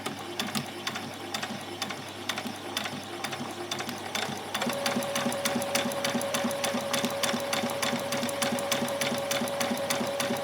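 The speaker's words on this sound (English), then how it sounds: "I'm just going to do an ordinary straight stitch, do a little back stitch" A sewing machine runs a steady straight stitch on a child's dress, with a brief back stitch before picking up speed into a continuous, slightly louder whirring rhythm close by.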